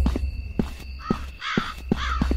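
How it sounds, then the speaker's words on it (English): Crows caw repeatedly in a horror video game, harsh close calls in a loose irregular rhythm over a low ambient rumble, with no one speaking. "Shut up, crows."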